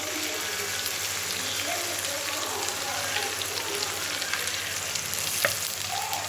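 Ground red chili paste for chicken gravy fries in a pan, giving a steady close hiss and sizzle with faint stirring throughout and no talking.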